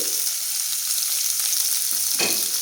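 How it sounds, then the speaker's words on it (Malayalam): Shallots, green chilli and curry leaves sauté in hot oil for a tapioca dish, giving a steady, close hiss of frying with light stirring and one sharper clatter near the end, no voices. "കരിവേപ്പില ഇത്രയിട്ട് ഒന്ന് വഴറ്റി കൊടുക്കും"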